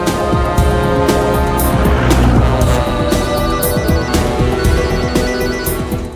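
A telephone rings loudly and steadily with a dense, bright electronic ringtone that runs the whole time. No one speaks.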